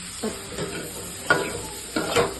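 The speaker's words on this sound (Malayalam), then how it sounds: "നന്നായിട്ട് മിക്സ് ചെയ്ത് കൊടുക്കാം." A spoon stirs Kashmiri chilli powder and turmeric in a hot pan for chilli chicken. Several scraping strokes come at uneven intervals over a soft sizzle, close up, with no one talking.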